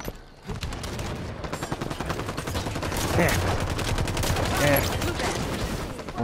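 Rapid automatic gunfire from a Halo 5 match crackles in dense bursts across the whole stretch, loud and continuous with a brief lull near the start.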